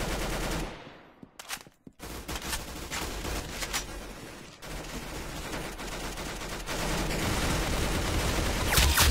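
Rapid automatic weapon fire in a shooter video game, bursts of shots after a brief quiet gap, growing louder and denser toward the end.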